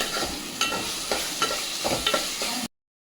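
Ingredients for a Nellore-style fish curry with brinjal and raw mango fry in a pan, a steady close sizzle punctuated by repeated scraping stirs, then it cuts to silence near the end.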